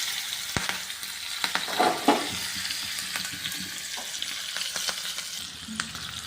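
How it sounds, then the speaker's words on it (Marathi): Mustard seeds, cumin, asafoetida and green chilli crackle and sizzle steadily in hot oil as a tempering is cooked, with a few louder pops and spatters and no voices over the frying. "याच्यामध्ये टाकून घेणार आहे आपण मोहरी जिरे हिंग आणि हिरवी मिरची"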